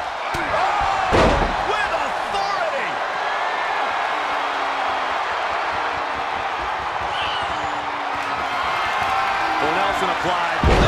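A heavy body slam hits the mat in WWE 2K23 during a Logan Paul versus Ricochet bout, a single loud impact rising over steady crowd roar and commentary.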